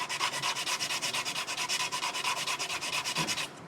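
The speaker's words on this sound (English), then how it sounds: "continue to work around the shaft, make sure you get all the epoxy off" Rapid rhythmic scraping of epoxy off a steel golf club shaft, close and loud, with dozens of quick even strokes in steady succession before it stops abruptly.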